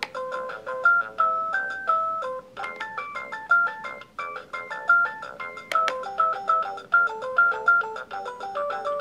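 A plinky electronic tune from the buttons on a Delta Children's Lil' Drive baby walker, a steady run of short beeping notes in a bouncy rhythm, loud and clear with no talk over it.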